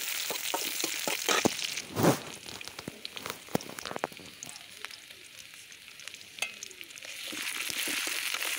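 Chopped onions sizzle in hot oil in a wok, a steady crackling fry with scattered sharp pops and a few stirring scrapes, fairly close and continuous throughout.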